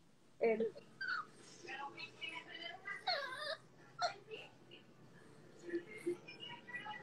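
A voice imitates a dog's whimper with a series of high, wavering whines and short squeaks, broken by pauses.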